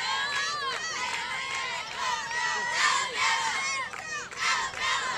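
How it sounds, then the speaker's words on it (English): A crowd of Alabama fans chants and cheers together at an outdoor obstacle-course event, many voices shouting loudly and continuously with rising, rhythmic bursts. "Wow, Alabama's got some cheering going on."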